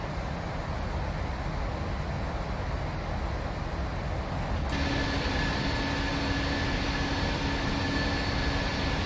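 Jet engines of a Boeing 737-900 in the Prepar3D flight simulator roar steadily on the takeoff run. Partway through, the noise surges louder and brighter, with a high whining tone over the continuous rush.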